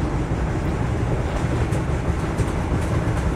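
A Vande Bharat Express in the game Train Simulator Classic runs with a constant low rumble and rolling wheel noise, loud and even throughout, with no talking.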